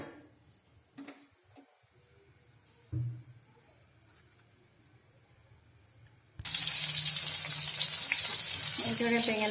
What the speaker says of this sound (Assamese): এইদৰে বেঙেনাখিনি মই ভাজি ল'ম।